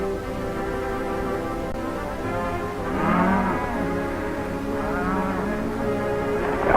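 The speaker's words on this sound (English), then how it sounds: "That's some of our cattle down there." Cattle low and moo from a herd in open range country, several long drawn-out calls overlapping one another at moderate distance, with no talking.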